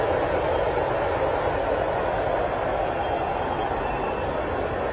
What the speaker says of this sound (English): that's train number 4 since I've been back here